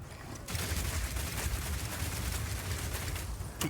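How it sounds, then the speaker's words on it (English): Rapid crossbow grenade blasts and power shot explosions from the video game Path of Exile 2, a dense, continuous barrage of crackling bursts running loud and steady throughout after a brief quiet start. "shoot out a bunch of grenades, and then start the fireworks with a power shot"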